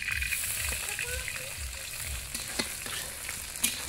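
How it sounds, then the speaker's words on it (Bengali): Ginger sizzles and fries in hot oil in a wok (kadai) at an outdoor village cookout, a steady crackling hiss with a few sharper pops and stirring scrapes over low background rumble. "তো এখন একটু আদাটা ভেজে নিব।"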